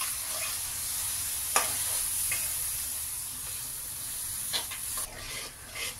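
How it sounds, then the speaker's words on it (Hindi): Spices sizzle in hot oil as they are roasted and stirred for a Lucknow-style chicken chatkara taridaar curry. A steady, close frying hiss runs throughout, with occasional spoon scrapes and no talking. "ऑयल सेपरेट होने तक हम मसालों की अच्छी तरह से भुनाई कर लेंगे।"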